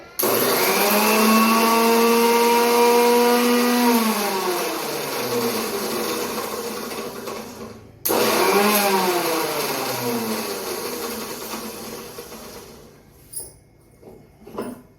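A mixer grinder whirs loudly, grinding ingredients for dhokla batter in two long bursts, its pitch sliding down as the motor winds down after each run.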